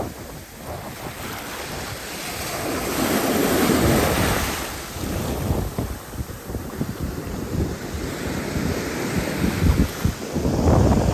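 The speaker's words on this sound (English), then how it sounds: "I'm going to show you some of the waves, if you can hear them already" Ocean waves wash onto the shore at Ship Island, surging and receding in broad, loud swells with heavy wind buffeting the microphone throughout and no voices.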